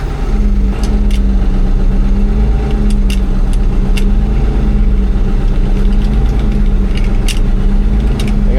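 A 1972 Diamond Reo truck that sat for 20 years runs with a steady, loud, low idle throughout, with faint intermittent clicks and scrapes as the gears grind under it, no voices.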